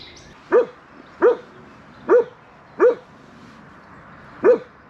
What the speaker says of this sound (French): Il y a des chiens partout ici, c'est un truc de dingue.